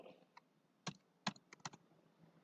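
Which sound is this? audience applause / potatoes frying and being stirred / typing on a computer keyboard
typing on a computer keyboard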